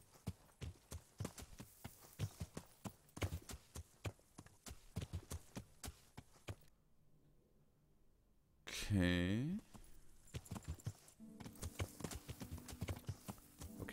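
Rhythmic horse hooves in the video game Kingdom Come: Deliverance clip-clop steadily at a close, moderate pace, with a brief whooshing sweep partway through before the trotting resumes.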